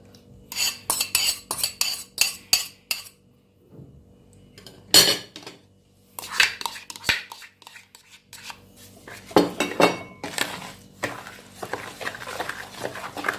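A utensil beats egg into banana cake batter in a bowl, making bursts of scraping clinks against the bowl separated by short pauses. Each burst is near and moderately loud, with no voices over them.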